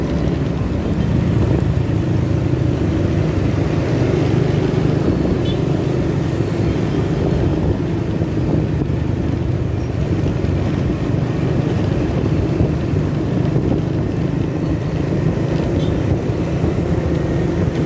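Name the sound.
motorcycle riding on a long drive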